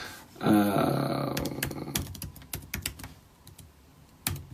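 Rapid, irregular key presses on a computer keyboard as a password is typed, close and fairly loud at first, then thinning into sparse clicks, with a final burst of taps near the end and no talking.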